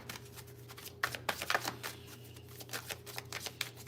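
Tarot cards being shuffled by hand, a rapid run of soft riffling flutters and slaps in bursts, close and fairly quiet, with a steady low hum behind and no talking.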